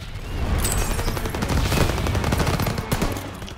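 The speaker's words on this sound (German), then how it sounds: "Are you aware there's been random explosions throughout the city?" Battle noise from Call of Duty: WWII, a dense, continuous barrage of gunfire and blasts in a city district, loud and sustained with no pause.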